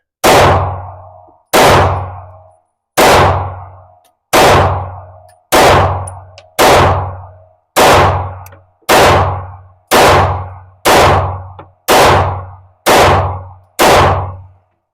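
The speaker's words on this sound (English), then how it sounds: "We're going to be shooting on the 7 to the right side of the target this time." Twelve loud, sharp gunshots from a Taurus GX4 pistol at a shooting range, fired singly at an even pace about one per second, each with a short ringing tail and no talk between them.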